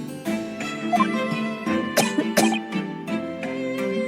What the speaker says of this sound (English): You seem to be coughing up some fur.